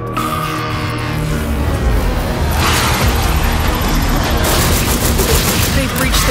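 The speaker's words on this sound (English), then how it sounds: "Some kind of zomb bomb." A zombie bomb goes off in the Drop Dead video game, bursting into a loud, close roar of blasts and gunfire-like crackling that keeps rumbling on.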